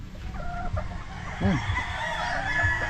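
Hens cluck softly in short bursts, with one louder squawking call in the middle, close by against a quiet farmyard background.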